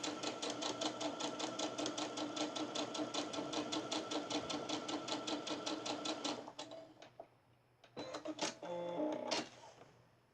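A home sewing machine stitches charm squares of fabric together, its rapid even needle chatter running steadily for about six seconds before stopping, followed by a few brief handling clicks and a short restart.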